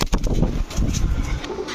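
Army breed pigeons coo nearby in brief throaty pulses amid rustling and loft noise, fairly loud and without speech.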